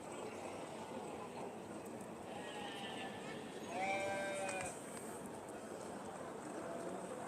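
A Valais Blacknose sheep bleats once in the distance over a low outdoor rumble, with faint voices in the background, during judging at the Royal Welsh Show.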